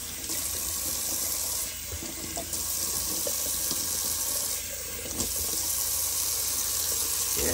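Cold water running steadily from a tap into a sink, a close, continuous splashing hiss with slight shifts in flow.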